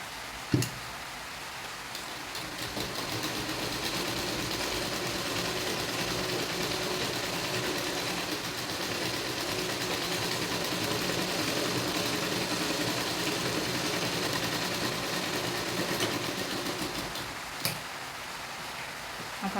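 A sewing machine runs steadily while stitching a V-neck blouse, giving a continuous, even mechanical whir with fine rapid ticking throughout and a couple of sharp clicks near the start and end.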